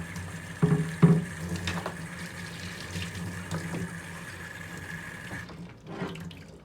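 Water runs steadily from a tap as a black powder revolver barrel is rinsed out under the stream, with a few clunks of metal handling near the start, then the flow stops near the end.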